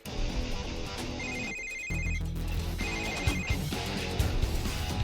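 A telephone rings in a Marathi TV serial household scene, repeated electronic ringtone bursts heard over continuous background music.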